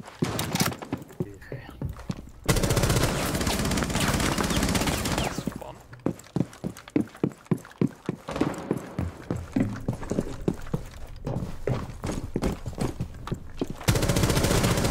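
Bursts of automatic gunfire in Rainbow Six Siege, loud sustained volleys at the start and end with a run of rapid separate shots in the middle, over faint game ambience and some talking.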